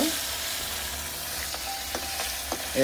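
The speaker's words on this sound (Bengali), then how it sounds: "গরম তেলে মাছ ছেড়ে দিল" Fish fry in hot homemade mustard oil in a rural kitchen, a soft continuous sizzle with a few light clicks of stirring, fairly quiet throughout.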